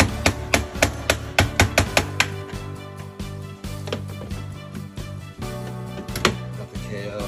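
A knockout being hammered out of an electrical panel: a quick run of sharp metallic knocks, then scattered taps over a low hum, ending with a couple of louder strikes.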